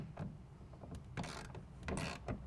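Rail clamp being tightened down on a Truxedo ProX15 tonneau cover fitted to a 2017 Ford F-150 bed: a few short, brisk mechanical ratcheting and scraping bursts, close and moderately loud, with no talking.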